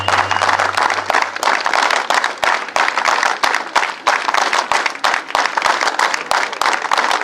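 Loud, dense applause from an audience welcoming kabaddi players at a district league tournament in Durg, with sharp overlapping claps sustained steadily throughout.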